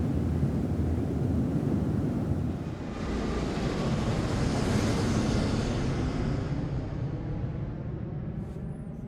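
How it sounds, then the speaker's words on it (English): A steady airplane engine drone holds throughout, broad and rumbling with a slight dip partway and a gradual thinning at the end as it begins to fade away; no talk. "the sound of the airplane dies away slightly"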